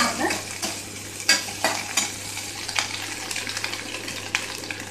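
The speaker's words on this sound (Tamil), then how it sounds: "நம்ம கட் பண்ணி வச்சுருக்க சின்ன வெங்காயத்தை அதில் ஆட் பண்ணுங்கள்" Small onions (shallots) frying in oil for sambar, with sizzling and repeated scraping stirs of a spatula in the pan, close up and without talk.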